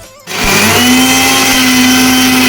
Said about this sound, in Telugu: వీటిని ఇప్పుడు మనం మిక్సీ పట్టుకుందాం.